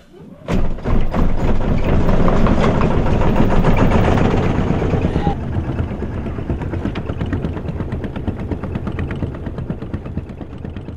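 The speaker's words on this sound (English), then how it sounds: "Going to have to put the engine on." A sailing boat's engine starts with a thump and settles into a loud, close, throbbing run, then drops to a steadier, slightly quieter rhythmic chug halfway through.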